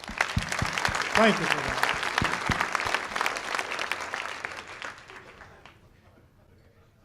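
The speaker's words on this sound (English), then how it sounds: "all of the people here who make that possible with their hard work deserve one more round of applause" A comedy club audience gives a round of applause for the staff, loud mixed clapping with a few sharp claps that fades out toward the end, with someone briefly speaking over it.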